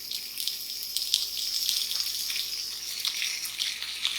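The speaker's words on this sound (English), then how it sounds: "You hear it frying up in the pan" Homemade bacon frying in a small pan, a steady dense crackle and hiss with scattered louder pops, continuous and close throughout.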